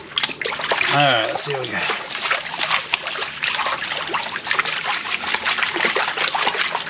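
Gold pan worked by hand in water at a gold mining site, holding heavy black sand: steady splashing and trickling throughout, with someone talking over it at the start.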